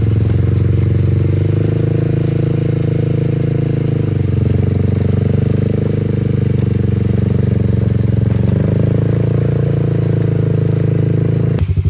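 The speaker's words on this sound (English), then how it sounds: "We just gonna go ahead and winch out." A Honda Fourtrax 300 ATV stuck in thick mud runs at a loud, steady engine drone while its winch drags it out, the note dipping and rising slightly as the load changes, close and continuous throughout.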